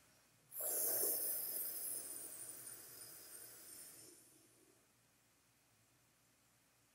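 A single long, airy inhale through a curled tongue in Sitali pranayama breathing practice, starting abruptly with a loud hiss and slowly fading over several seconds into quiet.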